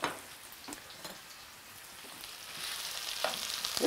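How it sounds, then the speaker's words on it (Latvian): Sliced chili pepper frying in a pan for chicken fajitas gives a soft, steady sizzle that swells toward the end, with a few stirring scrapes and no talk. "Un arī liekam kopā cepties."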